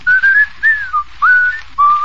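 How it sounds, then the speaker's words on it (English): A man whistles a short, clear tune of four or five sliding notes, close and loud, with brief gaps between phrases and an old radio-broadcast hiss beneath. "I'm surprised he can whistle"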